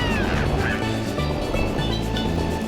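Cataquack enemies on a beach course in Mario Kart: Double Dash make short quacking calls over the loud, continuous engine whine and music of the kart race.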